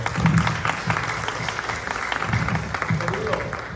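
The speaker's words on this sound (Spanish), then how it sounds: "Un aplauso para Marcos, por favor." An audience at an international poetry festival in Puerto Rico applauds a reader named Marcos, a short burst of crowd clapping with some voices murmuring underneath.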